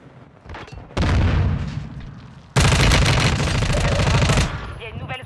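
Sustained loud automatic gunfire from a shooter video game, a long roaring burst starting around one second and an even heavier one after a brief dip, dense and close, with faint voices in the quieter moments.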